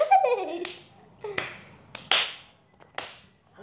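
Children clap for Joy and Grace in a few short, scattered bursts after someone speaks briefly, with the claps sharp and close but irregular rather than a sustained round of applause.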